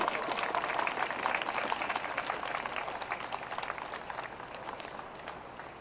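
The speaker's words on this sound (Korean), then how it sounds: "유가족 분들을 모시겠습니다. 힘찬 격려의 박수로 맞이해 주셨으면 감사하겠습니다" Sustained audience applause welcoming bereaved families at a Yongsan disaster memorial, a steady wash of clapping from a crowd that slowly fades.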